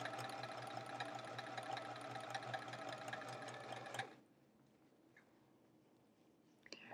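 A sewing machine chain-pieces chevron quilt squares in a fast, steady mechanical whir and needle chatter, loud and close, then stops abruptly about four seconds in, leaving near silence with a couple of small clicks.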